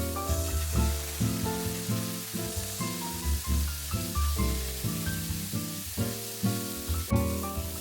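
Long beans crackle and hiss in a hot wok after a splash of Shaoxing wine, a steady sizzle partly buried under loud background music.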